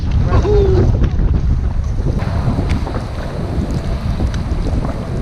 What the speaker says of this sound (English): This is like sleet and snow. And wind.